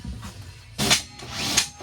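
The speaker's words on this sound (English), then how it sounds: "So I'll drill this hole" A power drill bores a hole through a garden room floor in two short bursts, each whining up loudly for about half a second, with quiet pauses around them.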